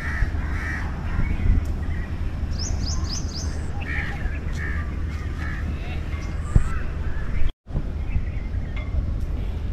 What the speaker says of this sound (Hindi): एक भाईजान कौवा साहब